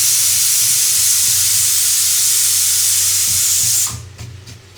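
Lentils hit hot oil with a loud, steady sizzle and hiss that runs for several seconds and then suddenly drops to a softer crackle.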